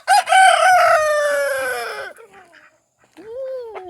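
A rooster meant to be a Wyandotte crows loudly and close by in one long, drawn-out call. The crow fades, and after a short pause a second, shorter crow or squawk begins.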